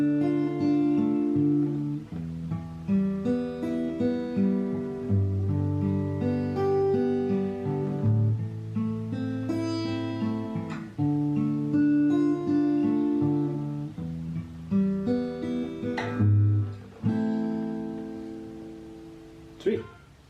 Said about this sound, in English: I'll play the pre-chorus from start to finish with the arpeggios